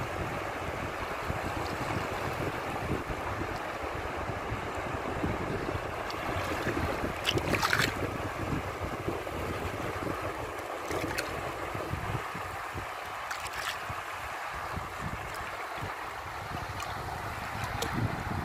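Ocean waves roll in steadily at the water's edge on a beach, with wind buffeting the microphone, forming a continuous loud wash without voices.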